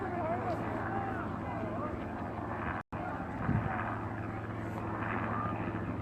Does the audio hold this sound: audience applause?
no